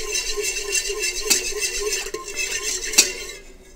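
A spoon stirs warmed yogurt into a soup pot for meatball yogurt soup, making continuous soft scraping and swishing with a couple of sharper metallic clinks against the pot, and no talking.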